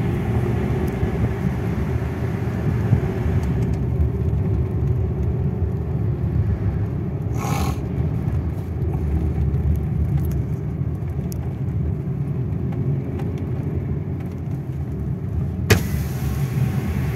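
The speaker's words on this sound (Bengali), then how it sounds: "প্রচুর গাড়ি রাস্তায়" Steady engine rumble from inside a car moving along a busy hill road, loud and continuous with road noise throughout and a brief rattle near the end.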